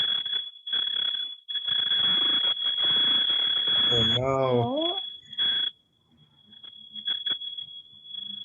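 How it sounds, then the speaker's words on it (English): A household fire alarm, set off by cooking, sounds as a steady high-pitched electronic tone that runs through the whole stretch under people talking, with a brief squealing sound partway through. "So that's the fire alarm."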